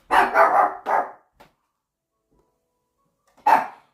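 A dog barks three times in quick succession, loud and close, then a faint yip, a long pause, and one more loud bark, with no talking over it.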